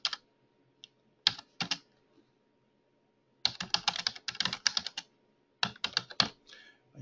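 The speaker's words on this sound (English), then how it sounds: "Typing is going to be slow this morning." Someone types slowly on a computer keyboard at a desk with an injured hand, in uneven close bursts of clicking keystrokes separated by quiet pauses, with no talking.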